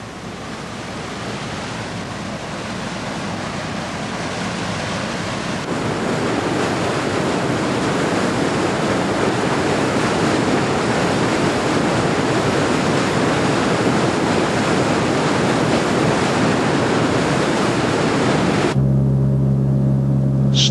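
Waterfall pouring beside an exposed rock cliff face in Venezuela, a steady broadband roar that grows louder and fuller partway through, then cuts to a different low hum near the end.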